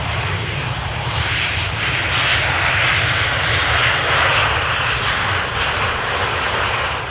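A departing aircraft's engines roar at Amsterdam Schiphol Airport, a loud, dense, unbroken rumble that holds steady across the whole stretch with no voices.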